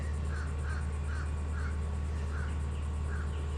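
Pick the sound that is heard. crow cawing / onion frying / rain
crow cawing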